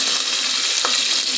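Green chillies and bay leaves fry in hot oil for a tomato bath, a steady close hiss of sizzling with one brief stir click partway through.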